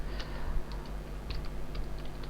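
Keys clatter on a computer keyboard as a Git commit message is typed, a quick irregular run of light close-up clicks over a low steady hum, with no talking.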